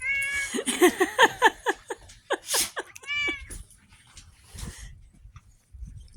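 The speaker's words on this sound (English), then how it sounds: "When you got cats with Siamese in them." Siamese-mix cats meowing up close, a run of several quick, rising and falling meows followed by a longer yowl, then quieter scattered sounds.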